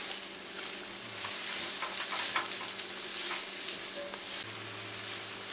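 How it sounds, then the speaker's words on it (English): Chopped onions for butter chicken fry in a pan, a continuous close sizzle with scraping stirs of a spoon at intervals, no talking. "we will add chopped onions and mix well. And we are going to cook the onions until they are translucent pink."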